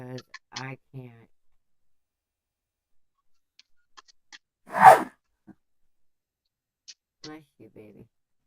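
A single sharp sneeze near the middle, loud and close, set between stretches of quiet conversation from a woman on a call.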